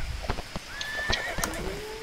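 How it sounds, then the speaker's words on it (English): A horse's galloping emote in the video game HorseWorld plays as a clear neigh and whinny over quick rhythmic clip-clop hoofbeats, close and alone with no voices. "So this is a gallop,"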